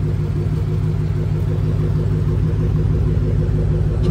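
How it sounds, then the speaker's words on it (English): Deep, steady rumble of a Dodge Hellcat's engine held at a constant throb, loud and close, with no other sounds over it. "I'm trying to rev my car for y'all"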